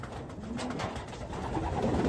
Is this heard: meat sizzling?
no